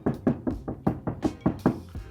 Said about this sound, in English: on most factory vehicles, this is what the door sounds like before you add the sound mat